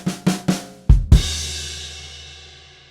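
Drum kit plays a short bar: three quick snare hits, then two heavy bass drum strikes with a crash cymbal that rings out and fades, close and alone.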